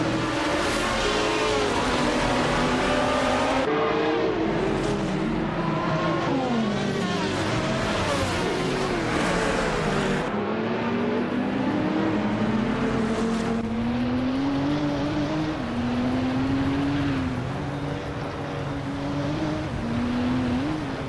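A Chrysler Viper GTS-R races around Suzuka in a video game, its engine roaring loud and close with rising and falling revs through steady shifts, the whine holding continuously over the whole stretch.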